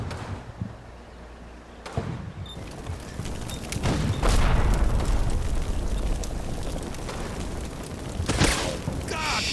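Artillery fire mission shells land in Combat Mission Final Blitzkrieg, fighting around woods: heavy booms and rumbling blasts, with a strong cluster around four seconds and another near eight, over continuous battle noise.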